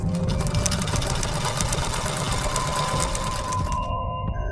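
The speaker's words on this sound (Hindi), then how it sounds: "सिलाई मशीन पर सिलाई का काम करने" Sewing machine stitching at home, a fast steady mechanical chatter running continuously before stopping abruptly near the end, with a faint background tone lingering.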